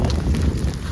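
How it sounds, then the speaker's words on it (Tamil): Wind blowing steadily outdoors, buffeting and rumbling across the microphone at a cooking spot, loud and continuous with no voices. "இல்ல காத்துல வந்து அடிக்குறேப்பா"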